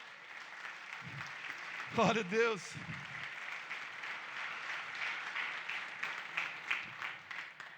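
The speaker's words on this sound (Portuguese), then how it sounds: "Você pode aplaudir a Jesus por isso?" Church congregation applauding during a Sunday service, a moderate spread of clapping from the room with a voice calling out briefly over it near the start, the clapping continuing in a loose, uneven rhythm afterward.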